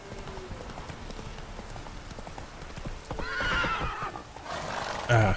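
A horse gallops in The Witcher 3: Wild Hunt, with steady rhythmic clip-clop of hooves close by, then louder snorting and whinnying bursts toward the end.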